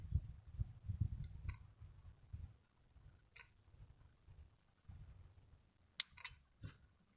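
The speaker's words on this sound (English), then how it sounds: "Just take the tip of the scissors and cut through the rubber." Scissor tips snipping through the rubber casing of a battery, a few sharp, close clicks spaced several seconds apart over a low background rumble.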